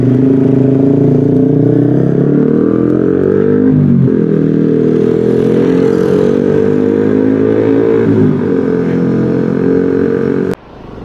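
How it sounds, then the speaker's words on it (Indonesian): Busy road traffic crosses the Tlogomas bridge, with motorcycles and cars revving and passing close by in a loud, continuous stream of overlapping engine drones that ends in an abrupt knock. "Arus lalu lintas lumayan ramai lur ternyata di sini ya."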